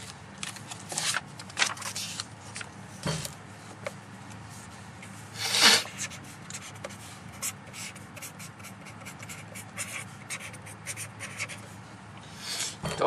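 A pen scratches steadily across paper while a math problem is worked out, making a close, continuous rustle of short strokes with occasional louder scrapes and no talking.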